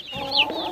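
Chickens in a coop give a brief, close cluck with a rising squawk in the middle, a single short burst of fowl vocalizing with no talk.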